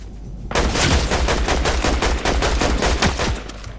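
Rapid automatic gunfire in the video game Fortnite: a sudden, loud, sustained burst of closely spaced shots that rattles on for about three seconds before stopping.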